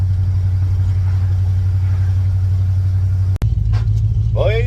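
Car fitted with an aluminum radiator driving on the road, a steady low engine drone and road rumble running loud and close throughout, broken by a brief dropout near the end with faint chirps after.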